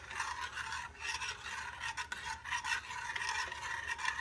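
A spoon stirs cinnamon into warm melted butter in a bowl, making soft, close scraping and rubbing strokes in an irregular rhythm at low volume.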